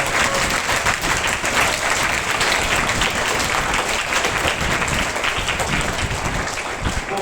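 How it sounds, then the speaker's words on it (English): A school hall audience at an academic-year inaugural function claps loudly and steadily for the chief guest, a sustained, dense round of applause with no break. "Please give a round of applause to Reverend Father."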